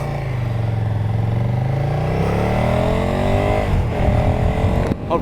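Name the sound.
KTM 1290 Super Duke GT motorcycle engine in parking lot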